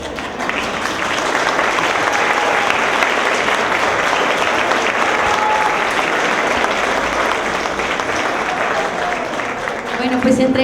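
Sustained audience applause at a keynote lecture by retired Mexican Supreme Court justice Margarita Luna Ramos, a dense steady clapping from a large hall that carries through the whole stretch and swells slightly at the end.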